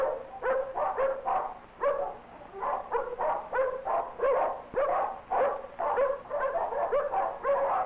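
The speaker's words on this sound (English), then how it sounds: "It sounds as though there are many dogs nearby." Many dogs at a dog pound barking in overlapping bursts, a dense, steady chorus of yaps and barks from several animals close by, with no talking over it.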